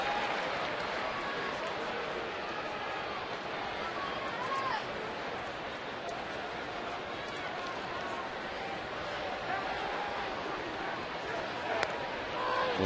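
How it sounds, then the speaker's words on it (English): A ballpark crowd at Fenway Park during a baseball game lets out a sarcastic mock cheer after a strike, a broad, steady roar of many distant voices filling the stadium with no single voice standing out. "Another mock cheer at Fenway."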